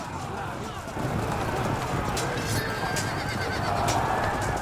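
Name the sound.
horses neighing in Field of Glory 2 video game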